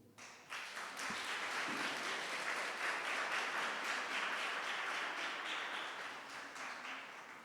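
An audience at an exhibition launch event claps steadily, dense sustained applause starting after a brief moment and continuing at even strength throughout.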